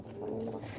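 Caught pigeon cooing, one soft, low, drawn-out coo at close range but faint.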